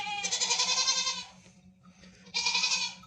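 Goats bleat loudly and repeatedly at close range, one long quavering call followed by a pause and another strong bleat.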